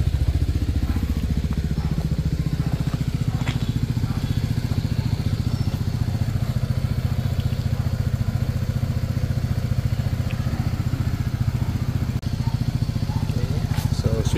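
A 2023 Italjet Dragster 200 scooter-style motorcycle idles with a steady, even low thrum under a voice talking nearby.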